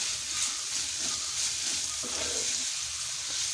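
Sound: onions being sautéed in a pan for beef curry

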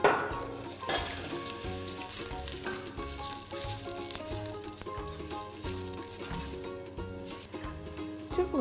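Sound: chopped onions frying in hot olive oil

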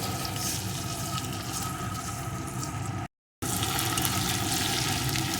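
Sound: chopped potato frying in oil

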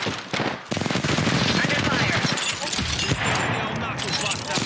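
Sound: gunfire in a video game

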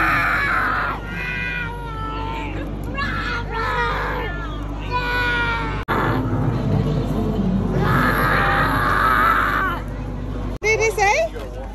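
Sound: little girl imitating a dinosaur roar

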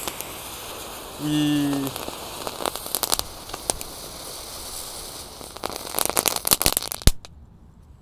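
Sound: spinning firecracker burning

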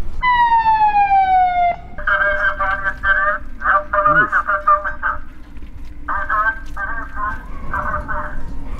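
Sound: police car siren

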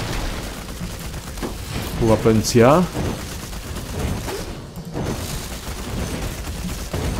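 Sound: gunfire in video game Pagan Absent Gods

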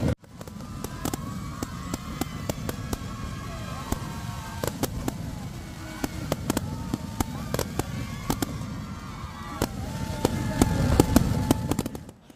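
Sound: firecrackers going off in celebration in Ranchi

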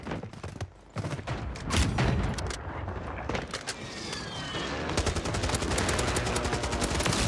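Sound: AK rifle gunfire in a video game

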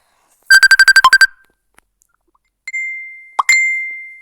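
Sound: phone ringtone from an incoming call

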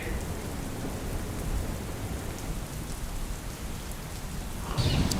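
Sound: heavy rain

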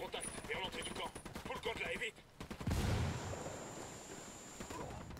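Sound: gunfire in the video game Ghost Recon Wildlands

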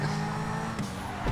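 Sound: car crashing into fence in video game GTA 5

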